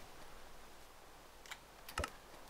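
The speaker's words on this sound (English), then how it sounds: "I can hold down P on my keyboard instead of right click." Computer keyboard keys pressed a few times, a single click then a quick double click, faint and close, over a quiet room hum.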